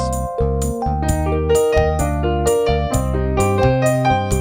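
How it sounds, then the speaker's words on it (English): Chords of a song on a keyboard broken into single notes, rising one after another in a steady flowing rhythm, close and clear with no voices. "arpeggiating them just means playing them one note at a time"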